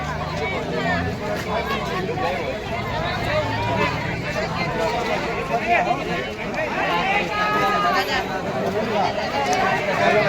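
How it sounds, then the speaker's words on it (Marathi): A huge, dense crowd of pilgrims at the old Prayag Tirth tank in Trimbakeshwar during a Shravan Monday gathering, a steady loud hubbub of many overlapping voices filling the whole stretch without pause. "प्रचंड प्रमाणात अशी गर्दी आहे इथे"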